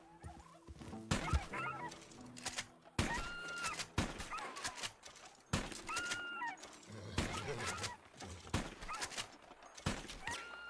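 Several wild turkeys in Red Dead Redemption 2 Online give repeated gobbling and clucking calls, in bursts broken by sharp gunshot-like cracks, fairly close with game ambience between.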